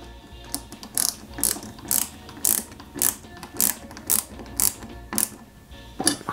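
Small screws are driven into a part of a Peugeot 205 GTI 1.9 scale model, with about a dozen crisp, evenly paced ratcheting clicks heard up close and no talking.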